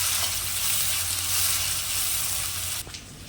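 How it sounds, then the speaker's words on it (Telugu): Garam masala, about a spoonful, frying in a pan for veg fried rice: a steady, close, fairly loud broadband sizzle that runs unbroken for about three seconds before dropping away near the end, with no talk. "ఇలా 1 స్పూను గరం మసాలా బాగా పచ్చివాసన పోయేలాగా వేయించుకోవాలన్నమాట."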